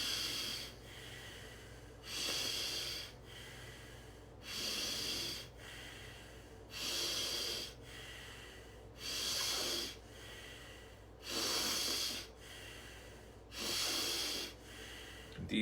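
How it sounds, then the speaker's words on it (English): Deep breathing through the left nostril with the right nostril blocked, a slow steady rhythm of about eight long airy breaths, each lasting a second or more with short pauses between, close and fairly quiet. "Block the right nostril. Deep breathing left nostril."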